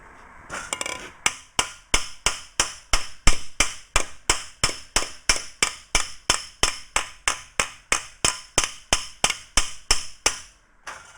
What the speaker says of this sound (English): now we're going to go in with that hammer and start to dress it up